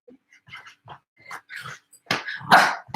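A dog barks and growls close by during a home workout, several sharp irregular barks that grow louder toward the end.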